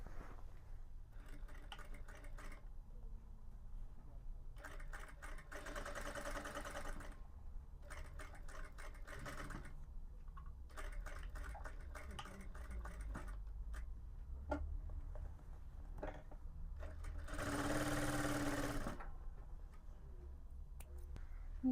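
Sewing machine stitching elastic onto a fitted sheet, running in several short rapid ticking bursts separated by quiet pauses, close and fairly faint with no talk.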